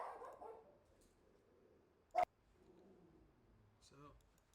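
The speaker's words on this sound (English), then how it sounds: "Ignore my dog barking." A dog barks once, a single sharp bark in the background of a quiet indoor room, with a low voice speaking before and after.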